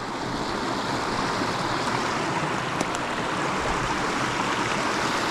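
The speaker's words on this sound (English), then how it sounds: "today it's got quite a bit of water going through it" A fairly full stream pours under a small bridge along the Old Sugarlands Trail, making a continuous broadband rush of water, close and steady with no voices.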